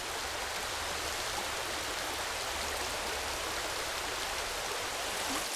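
A strong river current rushes steadily over the bottom of a clear, oxygen-rich highland stream, a constant broadband wash with no breaks.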